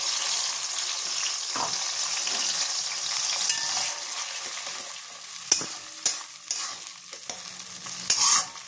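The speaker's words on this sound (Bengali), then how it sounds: "এতে দিয়ে দেবো কালো জিরে। কালো জিরেটা একটু ভাজা মতন হয়ে আসলে" Black cumin seeds fry in hot oil with a steady, faint sizzle, broken by a few sharp clinks and scrapes of a spoon stirring the pan near the end.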